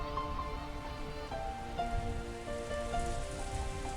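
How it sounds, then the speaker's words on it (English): Soft, steady rain falling from the video game Umineko When They Cry, an even hiss of drops heard with faint tonal music over it. "As Ange slept, she was wrapped up in the soft sound of the rain."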